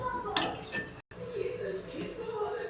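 A spoon clinks and scrapes against a pot while sugar is stirred into payasam. Quiet, close knocks come in a few brief bursts with a short gap in between, and soft talk sits underneath.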